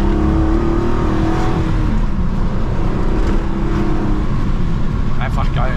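A 1970s Ford Capri 2600 RS V6 engine drones steadily from inside the car, loud and constant with a low rumble, as it drives along.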